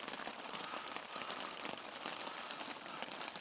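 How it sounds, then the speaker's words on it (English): Rain patters on a new tent pitched in a garden, a soft, even, crackling hiss of drops heard from inside, fairly faint and without talk. "It's actually raining."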